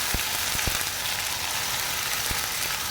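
Cabbage paste fries in mustard oil in a pan, giving a steady, close hiss of sizzling with a few sharp pops and clicks of utensils.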